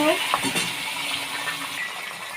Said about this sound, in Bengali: মাছের মাথাটা ভেজে নিই